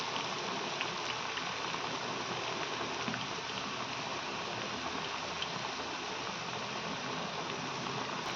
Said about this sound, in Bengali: এটা আমি খুব লাল লাল করে ভাজবো না, হাফ ভাজবো।